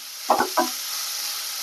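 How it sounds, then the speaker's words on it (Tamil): Green chillies, curry leaves and onion sautéing in a pan for cauliflower kara kuzhambu, two quick stirring scrapes followed by a steady soft sizzle, close and without talking. "இப்போ பாருங்க, பச்சை மிளகா, கருவேப்பிலை, வெங்காயம். இது வதங்கட்டும்."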